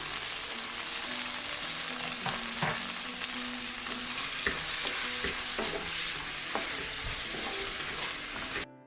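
Soy sauce and tomato ketchup being stirred into devilled chicken sauce in a frying pan, a steady close sizzle with repeated scraping and knocking strokes of the spoon throughout, no talk.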